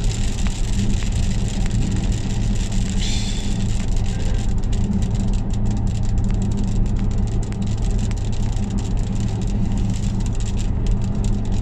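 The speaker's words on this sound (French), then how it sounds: "il commence à pleuvoir" Rain begins falling on a Porsche Cayenne, a dense steady patter on the body and glass with a low engine hum beneath, continuous and fairly loud.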